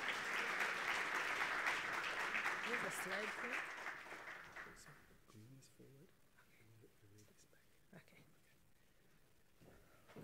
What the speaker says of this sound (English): Let's please give her a huge round of applause